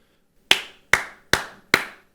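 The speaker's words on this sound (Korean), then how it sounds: "그럼 박수 쳐줘야지." Four crisp, separate hand claps ring out in an even rhythm during a Sunday church service, close and clear against an otherwise quiet room.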